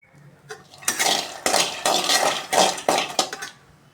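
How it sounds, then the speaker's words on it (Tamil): Peanuts being dry-roasted in a metal pan, stirred with a utensil, giving a run of clattering, rattling scrapes and clinks in quick irregular bursts, close and fairly loud with no talk. "வறுத்து எடுத்துக்கலாம் தோல் போகிற அளவுக்கு வறுத்து எடுத்துக்கணும் வேர்க்கடலை"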